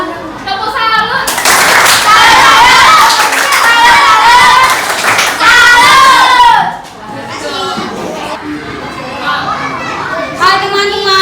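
A class of schoolchildren performs a rhythmic clapping salute in unison, loud and close, with many young voices chanting and calling out together over the claps.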